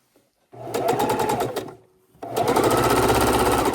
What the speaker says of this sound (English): and then we come back to the sewing machine.